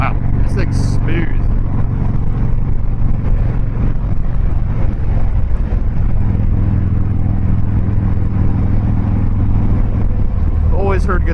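A Harley-Davidson Dyna Fat Bob 103 cruises on a highway with a steady low engine drone and heavy wind rush. A rider's voice can be heard over it now and then.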